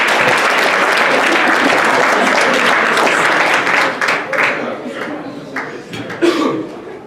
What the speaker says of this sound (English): let's please give a round of applause for the kitchen and the whole staff here at